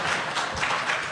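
A short burst of audience applause at an Emerald City Comic Con 2014 panel, with many hands clapping together in a quick, even wash of noise.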